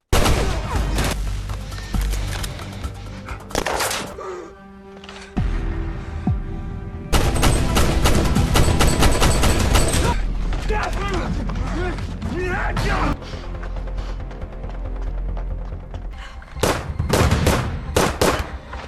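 Film gunfire from a long-range rifle during a cartel shootout in a forest setting: dense bursts of shots and rapid volleys under loud music and dramatic soundtrack, with brief quieter gaps between sustained salvos.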